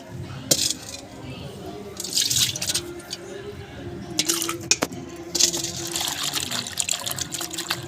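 Water dripping and trickling while a fish is washed and scrubbed by hand for cutting, with splashy bursts and intermittent drips close by, a faint voice at times in the background.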